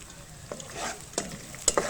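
Chopped capsicum frying in a pan with onion, garlic and ginger for chicken macaroni, with a soft sizzle and a few quick stirring scrapes.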